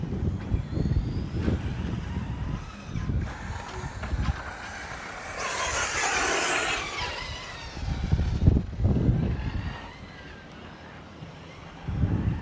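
An ST4G3 RC truggy's small engine revs and strains while bogged on a dirt track, a rising whining buzz in the middle surrounded by outdoor noise and people talking nearby.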